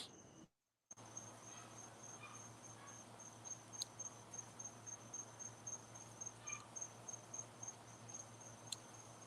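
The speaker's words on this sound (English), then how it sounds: "now we can hear the crickets" Crickets chirp steadily on a Saturday evening in quiet pulsing bursts, faint and distant, with a high sustained insect tone and low background hum after a brief dropout at the start.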